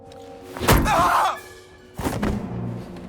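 A blunt thud as the captain is struck in the Indiana Jones and the Great Circle video game, a sharp impact followed by a scuffle and a second heavier hit about a second later, with game sounds between.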